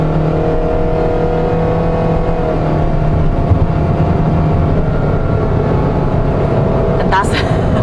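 A 2022 Perodua Myvi with a small engine and CVT accelerates at full throttle, giving a steady, loud, droning engine note that holds at one pitch, heard from inside the car with a brief sharp sound near the end.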